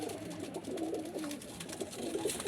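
Pet racing pigeons coo in a home loft, a soft, throaty burbling repeated in low rolling phrases close by, over a steady bed of background noise, with no talking.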